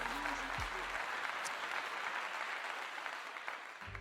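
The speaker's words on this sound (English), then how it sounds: "give you all a clap for rocking with this channel" Steady applause of many hands runs through, fairly faint, with a brief voice at the start and a low tone near the end.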